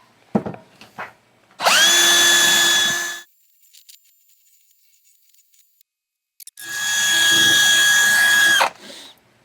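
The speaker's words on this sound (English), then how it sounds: "a wire brush on a drill" A wire brush spun by a drill scrubs corrosion from an old Volvo 164E's coolant system part, in two loud sustained whirring bursts about two seconds each, separated by a quiet gap with small clicks.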